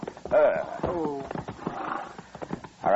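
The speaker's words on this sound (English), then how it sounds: "so we don't scare the horse" A horse near a buggy in a western setting whinnies sharply, followed by hooves clip-clopping at a steady pace, with a second neigh at the end; a voice is faintly mixed in.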